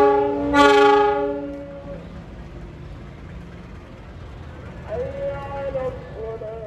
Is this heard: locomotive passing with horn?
yes